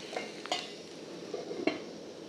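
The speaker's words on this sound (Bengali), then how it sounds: "ঢাকনাটা খুলে নেড়ে নেব।" Pot lid lifted and a spoon stirring mixed winter vegetables in a cooking pot, a few distinct metallic clinks and scrapes over a faint sizzle, close and sparse with no talking.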